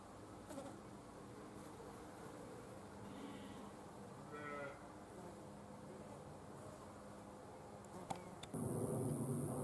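Bees and assorted insects hum continuously around flowers in a bee-friendly garden in July, a low, steady buzz with occasional nearer passes, ending in a sudden burst of broadband noise.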